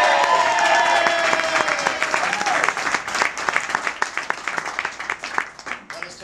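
Audience applause and whoops at a poetry slam, dense clapping at first that thins to scattered claps over about six seconds, with voices cheering and talking underneath.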